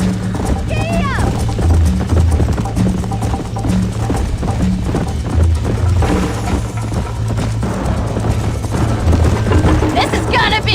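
Horse galloping in the Western video game Red Dead Redemption, a steady rhythmic clip-clop of hooves running throughout under a music bed, with a rider's voice calling out over it.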